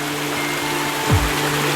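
A small mountain waterfall stream near a gorge rushes in a steady, broad hiss, close and fairly loud, with a brief low thump near the end.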